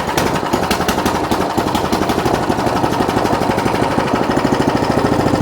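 A snow blower engine, choked and throttled about halfway, running loudly with a rapid, steady, pulsing rhythm throughout.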